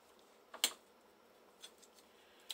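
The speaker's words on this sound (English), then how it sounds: "And then I'll take my scissors" Scissors snip through paper tube craft material, a few quick, faint clicks close by, the main double cut followed by lighter snips.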